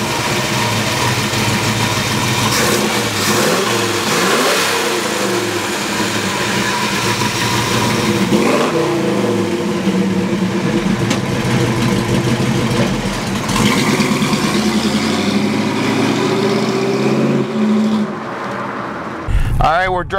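A 1934 Ford Coupe engine rises and falls through several revs as the car is driven, loud and close with repeated sweeping pitch climbs over a steady rumble, easing off just before the end.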